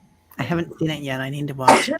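A single sharp sneeze bursts out near the end, close and loud, right after a woman finishes a short spoken sentence.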